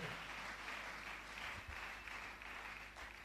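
A church congregation applauding the Lord, a faint, steady wash of many hands clapping together, continuous for a few seconds with no clear voices above it.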